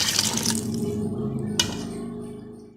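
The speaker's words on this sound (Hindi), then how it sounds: "और इसमें हम 1 गिलास पानी डालेंगे।" A glass of water pours into a cooking pot holding meat, lentils, ginger and garlic paste, a splashing gush that tapers off, followed by a single short clink and a quieter trickle.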